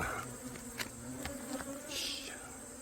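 Native Korean honeybees buzz steadily and close by around their hive, a dense droning hum with a few louder passes near the listener.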